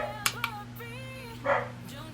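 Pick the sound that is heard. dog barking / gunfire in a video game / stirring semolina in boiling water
dog barking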